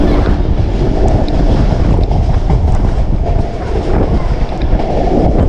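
A train rolls along a rural line in torrential rain, with steady dense rumble and rushing noise of rain and wind close around the carriage throughout.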